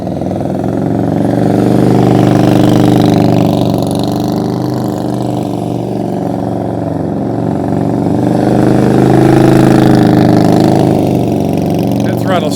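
A motorcycle engine pulls steadily under throttle through a turnaround practice drill, a loud continuous drone that swells and eases slightly but never drops off, with talk running over it.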